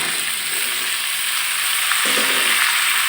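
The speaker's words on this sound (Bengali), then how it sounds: "এখন আমি মিষ্টি কুমড়োটাকে দিয়ে একসাথে কষিয়ে নেব।" Pumpkin pieces stir-fried with spices in a pan, a steady loud sizzle with stirring and a few clinks of a spatula, close up and with no voices.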